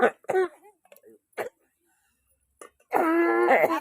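A short, sharp cough breaks up bits of talk, followed by a stretch of quiet before someone speaks again.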